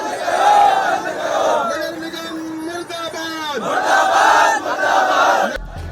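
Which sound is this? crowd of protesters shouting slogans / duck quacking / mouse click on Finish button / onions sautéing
crowd of protesters shouting slogans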